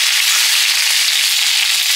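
Vegetables for a mildly bitter Bengali curry hit hot oil in a wok, giving a loud, steady, close-up hiss of sizzling that lasts throughout without any voices.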